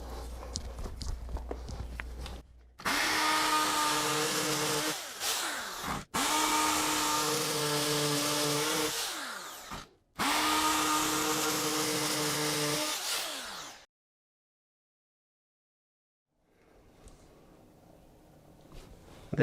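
A power drill bores a hole into a concrete garage floor for a ground anchor, three loud droning bursts of several seconds each with short pauses between, then quiet.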